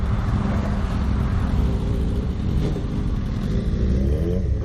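A motorbike engine drones loud and steady, a continuous rumbling hum with no breaks, carrying a rider and passenger toward a village on a dark road after rain.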